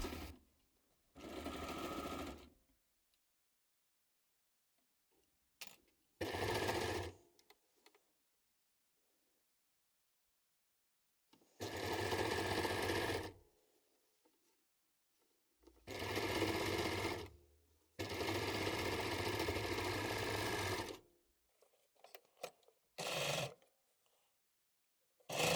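A sewing machine stitching a stretched cuff onto a hoodie, running in several short bursts of rapid whirring separated by quiet pauses, close and clear with no voices.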